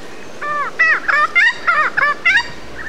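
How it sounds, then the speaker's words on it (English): A regent honeyeater sings a song copying a noisy friarbird, a rapid series of about eight loud, nasal, cackling syllables delivered close and clear over faint background noise. "This one sounded like a noisy fryer bird."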